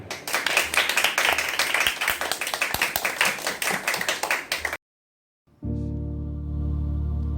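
Clapping from a church congregation welcomes a speaker at a thanksgiving prayer service, dense and loud for several seconds before stopping abruptly, followed by a short silence and then a steady sustained tone.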